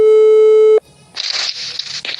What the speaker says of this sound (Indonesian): langsung saja kita telepon Kak Fadila